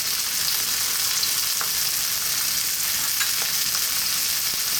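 Garlic and black beans frying in a pan with salt, a steady dense sizzle holding even throughout, with a few faint clicks of stirring.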